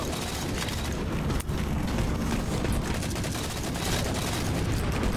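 Rapid, dense gunfire in a video game, bursts of shots layered over one another and continuing without pause, loud and up close throughout.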